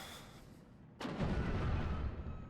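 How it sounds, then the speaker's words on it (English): A single sharp cannon shot from M3 guns firing at a Panzer IV in the WWII strategy game Steel Division: Normandy 44, booming out after a quiet stretch and trailing a long rumbling decay. "M3 guns taking a shot at the Panzer IV."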